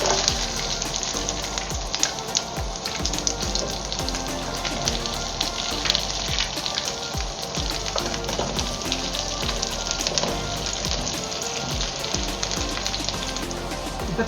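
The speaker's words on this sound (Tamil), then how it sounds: "கடாயில் எண்ணெய் ஊற்றணும். எண்ணெய் காஞ்ச பிறகு வெங்காயம் போடணும்." Onions fry in hot oil in a kadai, a loud, dense, continuous sizzle and crackle that fills the whole stretch with no talking.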